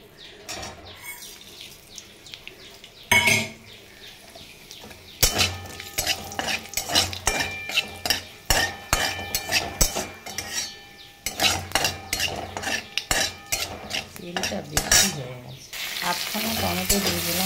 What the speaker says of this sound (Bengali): এখন ডালটা ফোড়ন দেবো